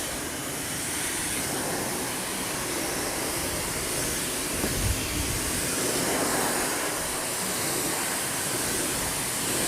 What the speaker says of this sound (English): Just trying to rinse out any soap left over in the bed.